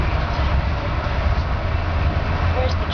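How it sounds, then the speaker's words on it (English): Steady low rumble of a slow-moving train heard from inside the carriage, a continuous rolling drone with faint rattles throughout, no distinct voices over it. "We are on the train, aren't we? Going kind of slow."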